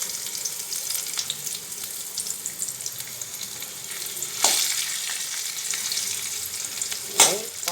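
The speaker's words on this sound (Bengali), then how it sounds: "রসুনগুলো লাল লাল করে ভেজে নিই।" Garlic frying in a pan, a steady close sizzle with occasional louder bursts and spatters as the pieces are stirred, heard alone without voices.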